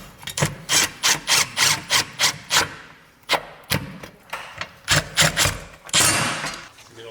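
Screws driven one after another with a long Phillips bit into stainless garage shelving, giving a close run of short, regular grinding bursts, a pause, then more bursts and a longer final drive.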